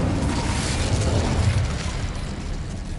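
Incendio fire spell cast in Hogwarts Legacy, a loud sustained whooshing, roaring blast of flame with a deep rumbling body that fades slightly over three seconds.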